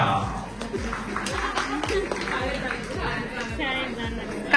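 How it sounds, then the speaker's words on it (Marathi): Guests at a Maharashtrian naming ceremony clap in a steady rhythmic patter beneath lively chatter and overlapping voices in a crowded room. "टाळ्या."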